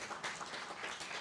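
An audience at a tourism resilience conference applauds the team behind the event, a dense, even wash of many hands clapping at moderate volume with no talk over it.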